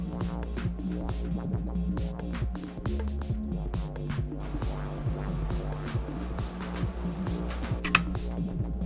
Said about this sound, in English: With the self-timer active, pushing down on the shutter button begins a countdown.